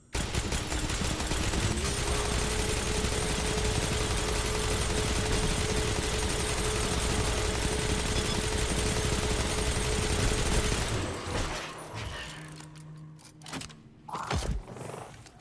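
Sustained explosive gunfire and heavy weapon blasts from Destiny 2 gameplay fill the first eleven seconds loudly and continuously, then give way to scattered shots, impacts and quieter game effects.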